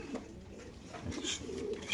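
Pigeons at a racer pigeon farm coo faintly in the background, soft low calls mixed with light rustling and a few brief higher chirps, fairly quiet overall.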